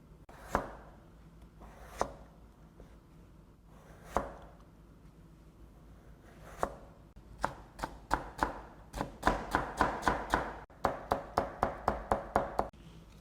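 A knife slices vegetables for kimchi on a cutting board. A few spaced, crisp chops are followed by faster runs of rhythmic cuts that grow louder and denser toward the end, with no talking.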